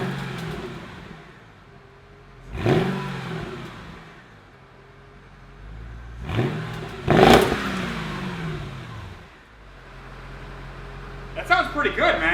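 Mercedes-Benz S-Class engine fitted with a junkyard AMG exhaust, idling with a low drone and then revving up in several sharp bursts, loud and close, with a whirring hum between.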